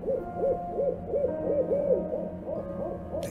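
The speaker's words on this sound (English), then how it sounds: "She's an owl or something." An owl gives a run of soft, rhythmic hoots, about a dozen evenly spaced calls in quick succession, clear and fairly close against a quiet background.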